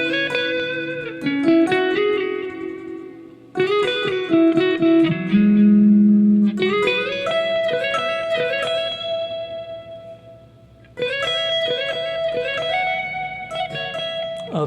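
Electric guitar plays a slow, bluesy combined lick, with bent and sustained notes in phrases separated by brief pauses, close and clear.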